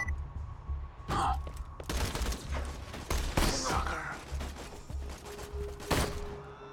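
Gunfire in the video game Borderlands 2, heard as a dense run of loud, sharp shot bursts over steady game music and effects, with several distinct bangs spread throughout.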